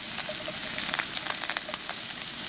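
Potatoes frying in a pan with thinly sliced ginger give a steady, close sizzle with scattered crackles and soft pops across the whole stretch, and no voices.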